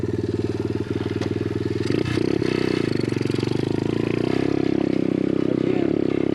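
A motor vehicle clatters loudly with a rhythmic engine pulse, then shifts into second gear after about two seconds and pulls away with a steadier, rougher drone.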